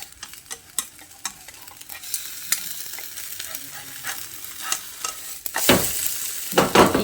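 Egg and potato breakfast frying in a pan: a soft crackling sizzle with scattered clicks of stirring, rising to louder hissing bursts near the end.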